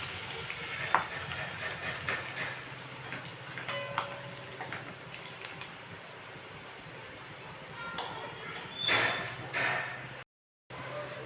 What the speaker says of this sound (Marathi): तर आपली फोडणी छान परतली गेली आहे.